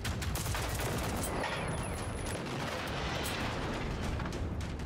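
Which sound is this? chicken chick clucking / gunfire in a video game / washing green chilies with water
gunfire in a video game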